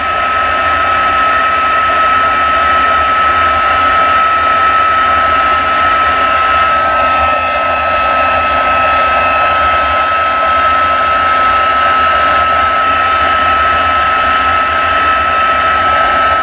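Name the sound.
heat gun heat-embossing a Christmas card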